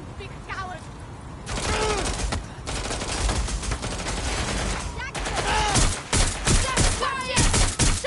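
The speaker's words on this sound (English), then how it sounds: "Shots fired! Shots fired!" Bursts of automatic gunfire in the video game Watch Dogs Legion, repeated loud volleys broken by short gaps, mixed with shouting voices.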